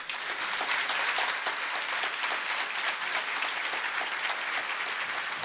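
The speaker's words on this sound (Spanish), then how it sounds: "Pues ahora pido un fuerte aplauso para ellos." Audience applause after a Catholic theological debate on the Eucharist, a steady wash of many hands clapping at a fairly even level for several seconds, heard at a distance.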